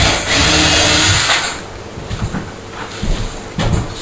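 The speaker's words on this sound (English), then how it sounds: "now I'm just removing any staples that might be left in from when the cardboard was stapled to the batten" Leftover staples are pulled from a wooden batten that once held cardboard, with close scraping and prying, then a series of short sharp clicks and taps.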